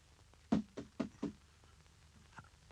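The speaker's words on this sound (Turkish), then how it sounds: "Bir daha tıklat hele. Tıklat tıklat." Four quick knocks on a door in a rapid, uneven cluster, then a single fainter knock after a short pause, sharp and close in a quiet setting.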